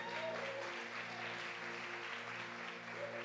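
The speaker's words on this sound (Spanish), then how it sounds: "Dele un aplauso fuerte a Él." A church congregation claps steadily through the whole stretch, a dense, even wash of applause at moderate level with sustained instrumental tones held underneath.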